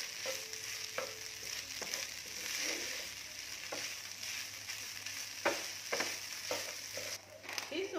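Vegetarian American fried rice is stirred and tossed in a pan over fairly strong heat, with a steady low sizzle broken by repeated scraping strokes of the spatula.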